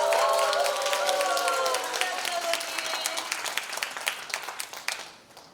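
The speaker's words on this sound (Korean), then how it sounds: "한번더 뜨거운 응원의 박수 부탁드립니다" Sustained applause from an audience at a Korean panel discussion, loud and dense at first, then thinning into scattered claps as it fades out over several seconds.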